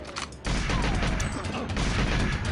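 Rapid gunfire in the N64 video game GoldenEye 007 bursts in suddenly and continues as a dense, loud fusillade of shots, with someone talking over it.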